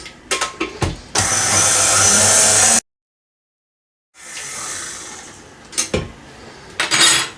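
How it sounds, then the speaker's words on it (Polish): Electric hand mixer whirring through cheesecake batter after potato starch is added, a loud steady burst of about two seconds, then quiet and a second, softer run with clinks of the beaters against the bowl. "Do sera dodaję dwie łyżki mąki ziemniaczanej. Chwilkę miksuję."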